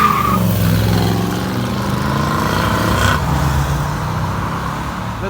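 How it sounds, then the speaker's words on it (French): Bentley Continental GT W12 and a Pontiac V8 launching from a standing start, loud continuous engine roar with layered rumble that shifts pitch partway through, close by and alone. "Départ arrêté entre la Bentley Continental GT et la Pontiac"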